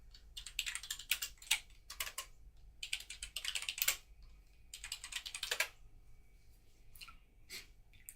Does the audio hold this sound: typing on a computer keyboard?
yes